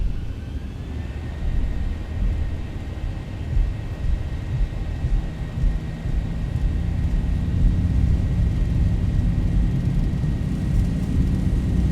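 Twin jet engines of a Boeing 737-800 (Zibo) in the X-Plane 11 simulator spool to takeoff thrust, a steady, loud broadband roar with a rising whine that holds for the whole stretch, no voices over it.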